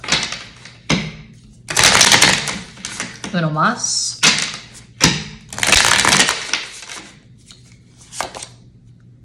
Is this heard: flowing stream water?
no